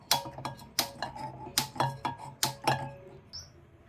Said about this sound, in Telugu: ముందుగా స్టవ్ పైన ప్యాన్ పెట్టి స్టవ్ వెలిగిద్దాము